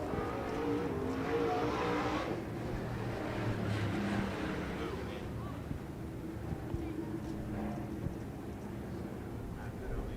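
MARS Late Model race car engines droning at Red Hill Raceway after a car spins to a stop in turn 2, a distant steady roar under a commentator's voice.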